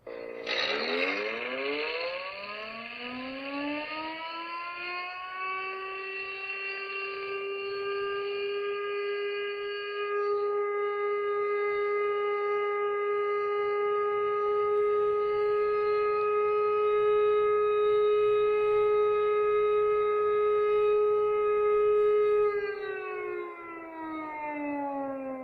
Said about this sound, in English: Is that an air raid siren? Yes. That is an air raid siren.